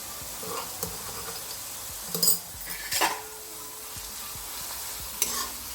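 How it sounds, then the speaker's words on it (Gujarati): Chopped onions sautéing in a pan, with a steady low sizzle broken by scattered scrapes and clinks of a stirring utensil against the cookware; no voices. "હવે તેમાં ડુંગળી એડ કરી દઈશું ચોપ કરેલી. એને થોડી વાર શેકાવા દઈશું."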